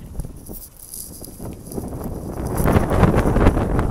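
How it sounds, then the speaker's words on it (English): Strong wind on an outdoor walk buffets the microphone in a steady roaring rush that grows louder toward the end, with no voices present. "Yeah, getting the strong wind now."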